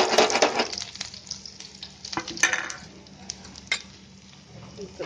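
Cumin, garlic, onion and green chillies crackle and sizzle in hot oil for a dal tadka, a steady frying hiss with a few sharp pops and clinks, up close with no talking.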